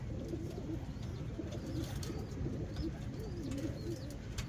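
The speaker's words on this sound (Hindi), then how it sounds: "लाजवाब क्वालिटी का कबूतर है ये" A pigeon coos in low, repeated rolling phrases close by, over a steady background hum, with faint higher bird chirps scattered through.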